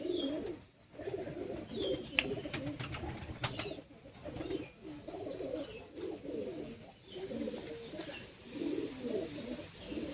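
Several pigeons coo softly and repeatedly after a male bird is let go, their low burbling calls rising and falling close by with faint chirps and handling noise, and no speech.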